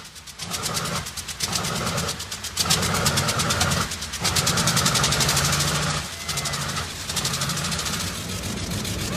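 A B-29 Superfortress bomber engine runs during a ground test with a loud, rough, throbbing drone that swells and dips in a few pulses, close and continuous.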